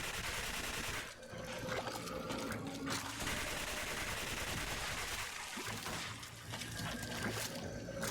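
Gunfire in Resident Evil 5 as a player shoots a monstrous creature: dense bursts of shots and impacts recurring over several seconds amid game noise, with brief lulls between volleys.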